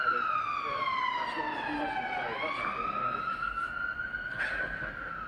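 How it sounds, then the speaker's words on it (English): Several sirens from passing ambulances and fire engines wail at once, their pitches sweeping and crossing, steady and fairly loud over a constant background rumble. "lots of sirens going on, but there's been a lot of ambulances and fire engines going past"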